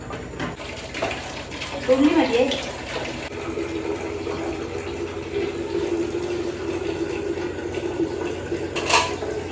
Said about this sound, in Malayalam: നമ്മൾ കുക്കറിലാക്കിയതിനു ശേഷം കുറച്ച് വെള്ളമൊക്കെ ഒഴിച്ചു കൊടുക്കുന്നു